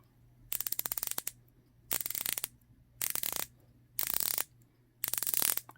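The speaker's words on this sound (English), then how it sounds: "if you want to take a listen to the bezel action" The dive bezel of an Oris Aquis Master Diver watch is turned in five short bursts. Each burst is a rapid string of crisp, close ratchet clicks, separated by brief pauses.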